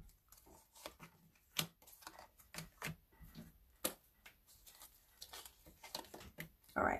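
A deck of tarot cards being cut and shuffled at a table during a reading, giving quiet, close, uneven card snaps and taps with soft papery slides, and no talk over them.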